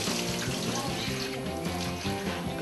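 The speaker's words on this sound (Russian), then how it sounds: "Вот теперь мы начинаем смывать." Water runs steadily over a dog's coat as shampoo is rinsed out during grooming, a close, continuous splashing hiss.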